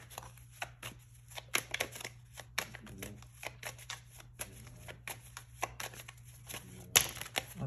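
Tarot cards being shuffled by hand, a quick run of crisp riffling flutters and soft slaps, close and fairly quiet, with no talking.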